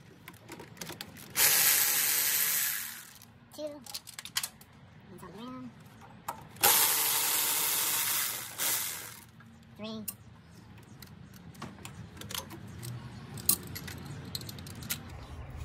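Socket extensions and a ratchet work loose the throttle body bolts on a Ford F150 5.0, with two long bursts of hissing spray, scattered metallic clicks and rattles, and brief speech mixed in.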